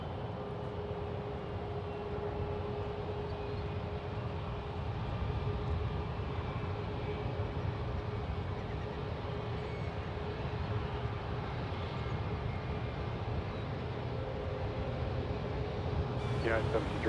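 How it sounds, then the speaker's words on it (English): Boeing 737-800 taking off from San Francisco International Airport, a distant, faint jet roar rising slightly in loudness and holding steady through the whole stretch. "This 737-800 using almost all the runway and going out of focus again"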